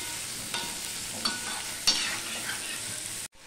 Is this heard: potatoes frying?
yes